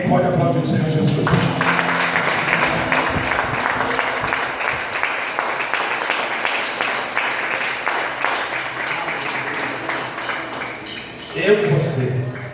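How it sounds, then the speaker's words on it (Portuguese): A church congregation at a campaign worship service breaks into sustained, dense clapping lasting about ten seconds, with a voice speaking briefly before it begins and again as it fades. "Quem pode aplaudir o Senhor Jesus?"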